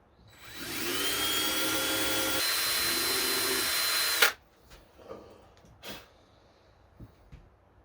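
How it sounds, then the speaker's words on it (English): A power drill whirs loudly and steadily for about four seconds while drilling into wood, then cuts off, leaving a few faint clicks and handling noises. "See, the drill bit's gonna come out right there."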